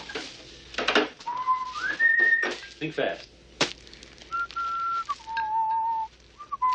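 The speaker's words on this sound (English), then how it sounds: "What was that song you were whistling before?" Person whistling a short song melody, clear sustained tones that step between pitches, interleaved with bursts of conversation and a few knocks nearby in an indoor scene.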